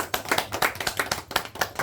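Audience clapping at a church gathering, a steady run of many hands clapping together for about two seconds, loud and close with no voices over it.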